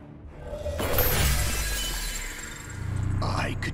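A glowing city shield shatters in the Marvel vs. Capcom Infinite game, a loud swelling crash of breaking glass with a whoosh, fading into a rumbling tail and a second burst of debris near the end.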